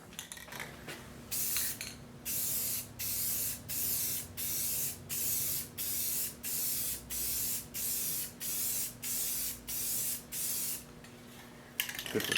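A spray can lays a coat onto a 2005 Cadillac STS headlight during restoration, about a dozen short, evenly spaced hissing bursts, each roughly half a second long, loud and close with brief pauses between them.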